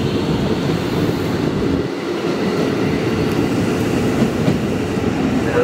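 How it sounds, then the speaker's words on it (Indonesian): A ten-car commuter train rumbles steadily close by at Manggarai Station, a continuous low roar with faint rail clatter throughout, no voices. "Rangkaian terdiri dari 10 kereta."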